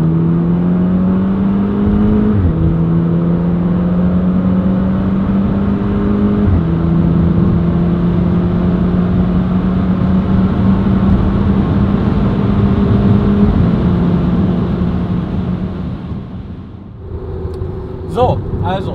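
Audi TT 8J 2.0 TFSI with DSG gearbox and a K04 turbo upgrade accelerating hard, engine note rising steadily through several gear changes, loud and close, then easing off near the end; a voice talks over the engine.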